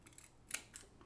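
Scissors snip fly tying material right under the hook point: two quiet, crisp cuts in close succession against a faint background.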